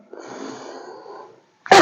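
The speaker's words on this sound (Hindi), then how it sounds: "और फिर प्रेशर के साथ में खांसी से उसको बाहर निकालिए।" A person takes a long, wheezy deep breath and then lets out one sharp, forceful cough at the very end, as in a cough technique during a heart attack.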